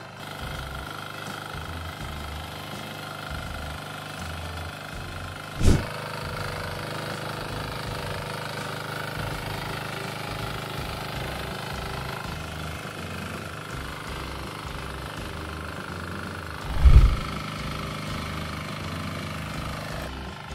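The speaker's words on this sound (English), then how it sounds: "This machine with 6 horsepower diesel engine is multifunctional. Here it is used to prepare the soil for planting." A multifunctional farm machine with a 6 horsepower diesel engine tills soil for planting, its engine droning steadily at a moderate distance with two sharp knocks about eleven seconds apart.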